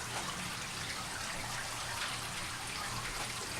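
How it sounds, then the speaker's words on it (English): Water rushing through pipes in a basement, a steady hissing flow that runs unbroken at low level throughout. "That is water flowing."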